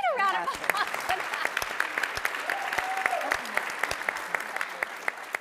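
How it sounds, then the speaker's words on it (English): Audience applause in a conference hall follows a talk about an England women's team winning the World Cup; sharp individual claps build into a steady round of moderate loudness, with some voices mixed in. "Can we get a round of applause for that?"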